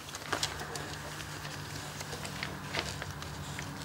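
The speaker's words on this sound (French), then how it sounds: "Le pigeon voyageur là-bas, là." A carrier pigeon coos softly in the background, low repeated calls under faint hiss and scattered light taps, with a quiet hum running through and no clear speech.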